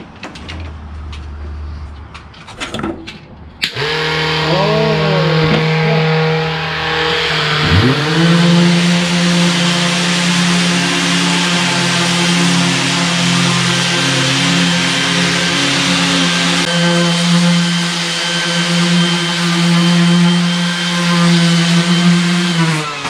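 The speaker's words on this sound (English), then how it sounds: "now just sand it. You got the palm sander?" A palm sander runs on an off-road trailer tonneau cover, a loud steady motor whine and buzz that starts after a few seconds of handling noise and holds for the rest of the clip, close by.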